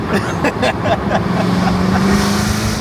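A loud, throaty Jaguar F-Type exhaust with its valves open drones steadily with a rising rev, close to the microphone, with a voice briefly audible over it.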